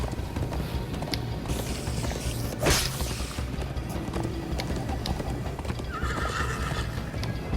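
Rhythmic hoofbeats of a galloping horse in the video game Minecraft: Story Mode, with a brief whinny and some creaking, all fairly quiet and continuous.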